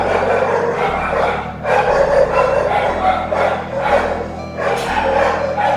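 Dogs bark and yip repeatedly over looping game music during play of a Sonic.exe fan remake, the barks rising in bursts through the steady backing track.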